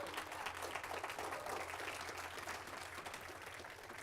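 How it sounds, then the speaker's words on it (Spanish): Faint applause from a church congregation, a soft continuous patter of clapping held at a distance for several seconds. "Denle un aplauso a Cristo si puede."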